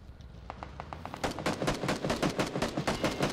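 Rapid bursts of gunfire in the video game PUBG, a string of sharp, evenly spaced shots that grows denser and louder partway through, continuing steadily to the end.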